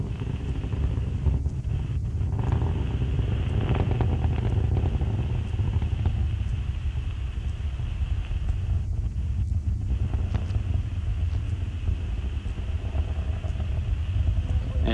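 Space Shuttle Columbia's engines roar during the STS-40 launch, a loud, unbroken broadband rumble that holds steady throughout with no voices over it.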